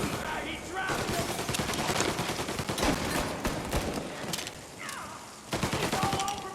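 Rapid gunfire from a shootout in the crime game Mafia Definitive Edition, with dense bursts of close shots crackling almost continuously, a short lull, then more firing, and voices shouting intermittently underneath.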